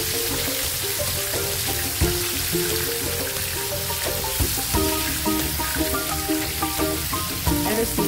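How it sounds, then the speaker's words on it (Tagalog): Chicken pieces fry a second time in hot oil, giving a steady, close crackling sizzle with frequent small pops throughout. "Tapos, i-fried natin siya ulit."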